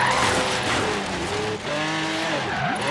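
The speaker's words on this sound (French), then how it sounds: "on va même se faire des drifts avec ce Kurka Teradyne" Gurkha armored truck drifting in Forza Horizon 3, with loud continuous engine roar and rising, wavering tire squeal sustained throughout, close and dense, no talking.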